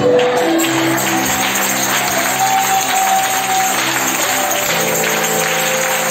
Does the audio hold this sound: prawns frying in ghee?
no